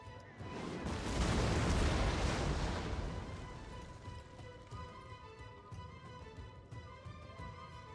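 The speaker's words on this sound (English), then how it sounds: "my artillery is going to fight this battle for me" Artillery bombards city walls in Total War: Attila, a heavy booming roar that builds, peaks, then fades into a distant rumbling battle din with faint music in the background.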